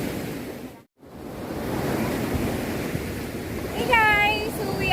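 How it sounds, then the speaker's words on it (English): Big ocean waves break as rough surf on a beach at high tide: a steady, loud broadband roar with one brief dropout. A voice faintly joins near the end. "It's really big wave. It's very high tide."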